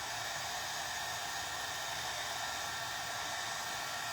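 A hair dryer blows steadily on a wooden spindle craft piece, a loud, continuous close-up whoosh with no change in pitch or level.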